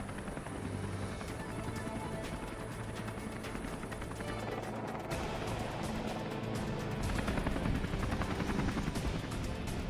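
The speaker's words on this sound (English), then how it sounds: "The helicopter returns and picks them up." A rescue helicopter flies during a snowmobiler search at sea, its rotor and engine making a dense, continuous roar that runs steadily throughout.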